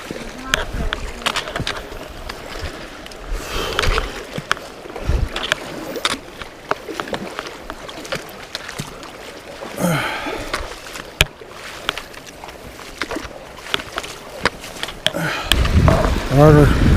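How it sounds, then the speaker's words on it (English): Hikers wade through a cold stream crossing on the Ouachita Trail, with irregular sloshing and splashing of water around their legs, heavy breathing and gasps close by, and louder splashing toward the end. "Water crossing"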